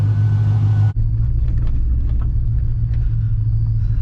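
A 2006 Pontiac GTO drives around the block, its engine a steady, loud low rumble heard from inside the car, with a brief cut in the sound near the start and no talk.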